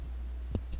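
Two sharp, dry clacks from an old DOS-era computer keyboard, close and fairly quiet, spaced a fraction of a second apart over a steady low hum.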